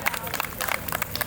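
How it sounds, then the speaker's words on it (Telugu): A crowd of guests claps at a wedding sangeet celebration, a burst of scattered, uneven applause heard up close, mixed with a voice. "గట్టిగా చప్పట్లు కొట్టండి మరి"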